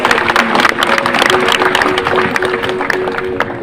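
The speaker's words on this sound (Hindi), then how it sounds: "डॉक्टर शाहिद के लिए तालियां हो जाए।" An audience applauds for Dr. Shahid at a student excellence day event, a dense, steady wash of many hands clapping together, loud and close, with no talk over it.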